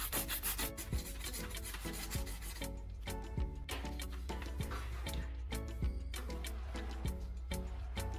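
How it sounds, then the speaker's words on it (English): Sandpaper scrubs oxidized battery terminals in quick, rhythmic back-and-forth strokes, close and steady throughout with no voices. "Use sandpaper to clean both terminals until the metal surface becomes bright again."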